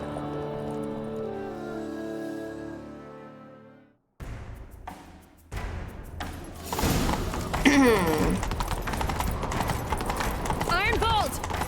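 A horse gallops in the video game The Witcher 3 with a steady, close clip-clop of hooves. A brief pause breaks it, then it returns under character dialogue and game sounds.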